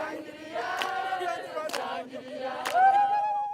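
A crowd at a rebel rally in Goma singing together in loud massed voices with a clear melody, punctuated by a few sharp claps or shouts.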